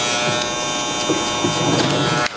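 A Victor electric hair clipper running close and loud while cutting a low fade, with small shifts in its buzz as it moves through hair before cutting off abruptly near the end.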